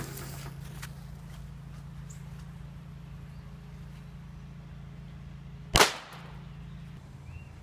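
A single firecracker goes off with one sharp, loud crack in a fire pit outdoors. It comes after several seconds of quiet steady hum and fades quickly.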